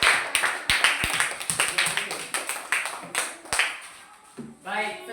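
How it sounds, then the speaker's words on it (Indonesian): A classroom of students claps for a presenting group, bright uneven claps that are dense at first and thin out, and a voice speaks near the end. "Baik, tepuk tangan buat kelompok 3."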